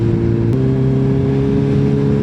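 A 1000cc inline-four Kawasaki Z1000 R motorcycle engine with a new, fairly quiet exhaust runs close by with a steady, droning hum, its pitch stepping up slightly early on and then holding even.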